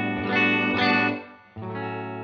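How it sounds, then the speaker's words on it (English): Electric guitar through a Death By Audio Space Bender pedal in low-rate LFO mode, giving a warbling chorus- or flanger-like sweep on sustained chords; two strummed chords ring out alone, close and clear. "chorus, almost, or flanger, I don't know what you'd say."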